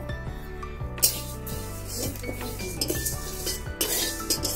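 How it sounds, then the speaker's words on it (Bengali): Lentils roast dry in a hot wok, with repeated metallic scrapes and clinks of a spatula against the pan in an irregular rhythm, close and moderately loud over a low steady background. "কড়াই গরম হয়ে গেছে, আমি এবার ডালটা কড়াইতে দিয়ে দিলাম। আমি ডালটা এবার ভেজে নেব।"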